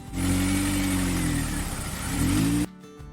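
An ATV engine with a bad wire to a coil pack runs loud and close, its uneven misfiring drone wavering and rising for over two seconds before cutting off abruptly into near silence.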